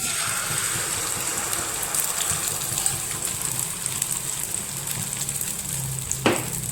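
Batter poured onto hot oil on a tawa sizzles loudly and steadily throughout, a dense crackling hiss with one brief clink of a utensil near the end.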